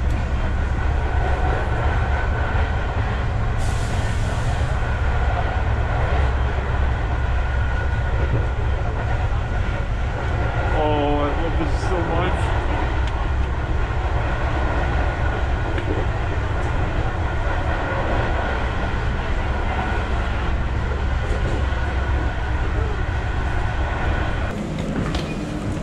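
Athens metro train rumbling steadily along the track from inside a car, a continuous loud low roar with faint clattering and squealing, no talk.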